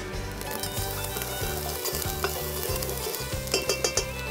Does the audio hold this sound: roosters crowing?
no